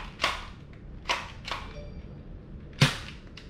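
A toy gun test-fired indoors, with four sharp cracks spaced irregularly over a few seconds against a quiet, noisy background, each a short snappy pop.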